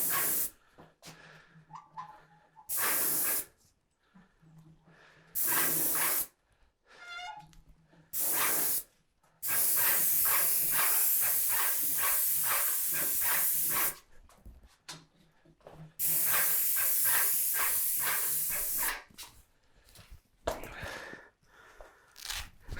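An airless paint sprayer coats wood cabinet doors in several long, loud hissing bursts separated by short pauses, the spray starting and stopping abruptly with a steady rushing texture.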